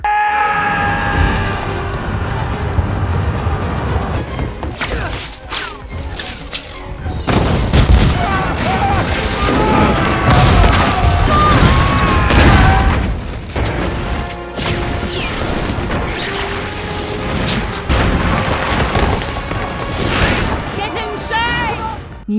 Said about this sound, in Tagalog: Yumanig sa pagsabog ang buong kastilyo.